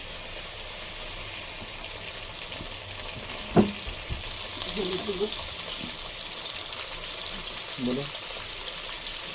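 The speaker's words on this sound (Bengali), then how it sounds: "এখন আমি তেল দেব, সামান্য তেল দিয়ে দিলাম" Oil sizzles and fries in a pan while cooking golda chingri prawns, a steady close hiss with a sharp clank early on, then bubbling crackle; a voice talks over it.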